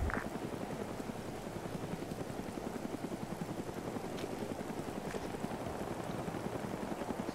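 Military helicopters in the video game Arma 3 give a steady, fast rotor thump with a broad engine whine underneath, constant and moderately distant throughout.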